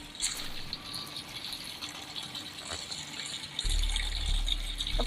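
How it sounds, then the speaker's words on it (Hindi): Water runs from a hose pipe into a container, a steady faucet-like rush that deepens into a fuller, lower filling sound toward the end, with no talking. "कंटिन्यू में पानी भर रहा है।"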